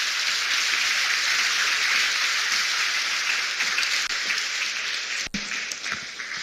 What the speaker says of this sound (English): Please, a round of applause for her again.